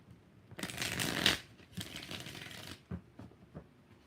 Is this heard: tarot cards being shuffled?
yes